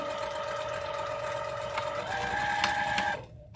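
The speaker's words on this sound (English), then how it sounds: "don't forget to backstitch where you leave your opening" Sewing machine backstitching a seam on a small patriotic pillow, humming steadily at close range with a shift in pitch as it reverses, then cutting off abruptly near the end.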